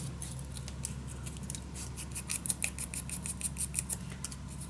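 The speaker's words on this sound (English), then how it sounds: "Cut it till the corner, and from corner to mark." Scissors snip through craft paper for a vintage winter mini album, a close run of quick rhythmic cuts that speed up toward the end.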